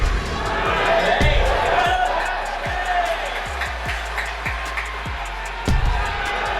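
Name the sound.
boxing arena crowd cheering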